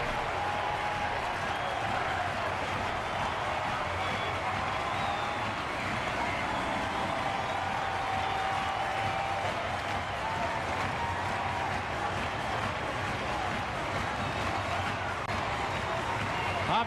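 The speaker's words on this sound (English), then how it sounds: "Listen to this crowd." Baseball stadium crowd roars in a steady, distant wash of cheering and applause after a Braves comeback win over the Tigers, with a broadcaster's voice talking over the din.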